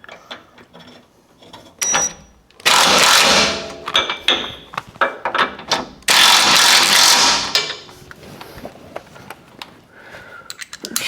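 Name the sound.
tightening 17 mm tow hook bolts on skid plate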